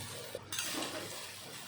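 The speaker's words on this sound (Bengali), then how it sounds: "ভাত এখন সবজির সাথে ভালো করে নেড়েচেড়ে মিলিয়ে নিতে হবে" Cooked rice is stirred with carrot, capsicum and green peas in a pan for fried rice. A soft, brief scraping and shuffling sounds over a low sizzle, with a single light knock of the utensil.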